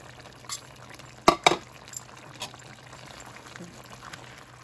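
A pork, potato and celery stir fry is stirred in a pan, with a quick cluster of utensil clanks against the metal and soft scraping over a low, quiet frying hiss.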